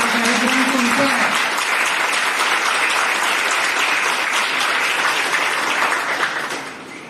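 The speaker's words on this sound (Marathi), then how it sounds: "जितक्या जोरात टाळ्या वाजवतो ते आपलं पण आवाज गुंजून गेला पाहिजे." Loud, dense applause from an audience at a school's 75th Independence Day celebration, which swells and holds for several seconds before fading at the end. A voice is faintly heard near the start.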